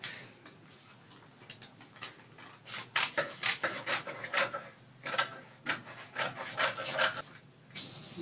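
Scissors snip through a folded paper sleeve pattern in bursts of short rasping cuts, close and alone, with brief pauses between strokes.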